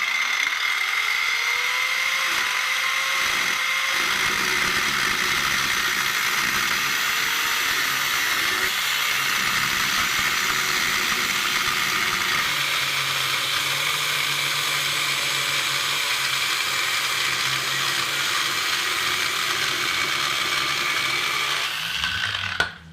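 A power tool cutting out a metal sill on a Jeep Cherokee XJ grinds and whines continuously for over twenty seconds, loud and close, with a steady high-pitched mechanical drone and brief shifts in pitch near the end.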